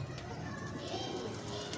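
Highflyer pigeons in a breeding setup cooing softly, low murmuring calls close by against a steady background hiss.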